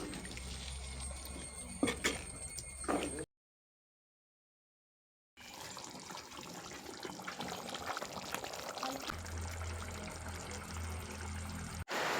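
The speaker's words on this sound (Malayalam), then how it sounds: "അരച്ചതിൻ്റെ വെള്ളമാണ് ഇത്തിരി ഒഴിക്കുകയാണ്." Water left from grinding roasted coconut masala is poured into a pan of chicken curry, a steady close trickle and splash that stops for a gap and then resumes, with no talking.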